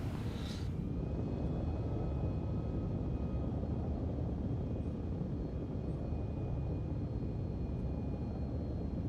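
A Drake Cutter spaceship flies in a video game, giving a steady, loud, broadband engine roar that holds evenly throughout after a brief higher tone at the start.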